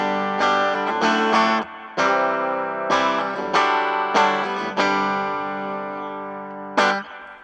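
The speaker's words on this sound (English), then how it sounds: "That's the clean sound with the Mad Bean pedals, mood ring, reverb." A Stratocaster played clean through Mad Bean Mood Ring and reverb pedals rings out in a series of strummed chords, each struck firmly and left to decay with a lush shimmering tail, alone without talk.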